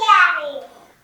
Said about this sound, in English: you might hear my toddler in the background